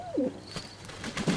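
A racing pigeon coos near the microphone in a couple of soft, low, throaty phrases, with faint chirping from a young bird behind.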